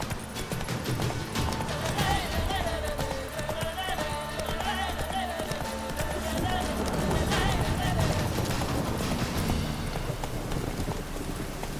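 Horse hooves clip-clop steadily in the video game The Witcher 3, a continuous trotting rhythm heard close up over a dense, noisy game soundscape.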